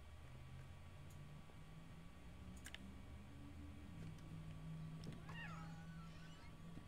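A cat meows in the video game What Remains of Edith Finch, a short, rising call near the end over a steady low ambient hum and faint clicks.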